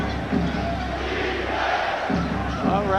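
A basketball arena crowd at a 1991 Suns vs Knicks game roars steadily, a dense wash of cheering and shouting held at an even level throughout.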